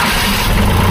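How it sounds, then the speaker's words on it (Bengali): A second-hand tractor with about 3000 running hours and a commercial registration runs its engine at a steady idle, close and loud, with a continuous rough rumble and no speech. "ইঞ্জিনের আওয়াজ ভালো আছে"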